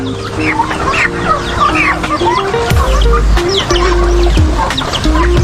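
Turkey chicks and chickens cluck and peep close by in a loud, busy chorus, with overlapping calls and a deep rumble of background noise underneath.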